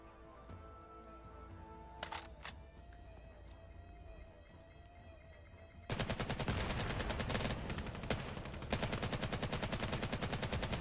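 Rapid gunfire from a VAIL competitive match, bursting loud and dense in the second half after a quieter stretch of scattered game sounds and tones.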